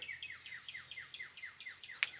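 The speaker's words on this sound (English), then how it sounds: "the birds are nice" Rapid, repeated chirps from a bird outdoors in the countryside, a steady rhythmic series of high, sweeping notes about five per second, faint and distant, ending with one sharper click.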